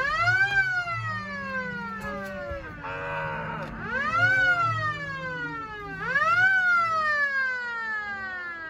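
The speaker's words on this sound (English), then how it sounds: "Taggart, do you want to blow the whistle again?" A whistle blown as a dinner bell on a snowy cattle ranch, giving loud, rising and falling siren-like wails in three long sweeps with brief pauses between them.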